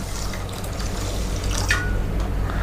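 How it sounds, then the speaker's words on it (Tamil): Water streams from close by onto foxtail millet in a bowl, set to soak for dosa batter, a steady, even pouring hiss with a low background hum and no speech. "இப்போ திணைக்கும் நம்ம தண்ணி ஊற்றிக்கலாம்."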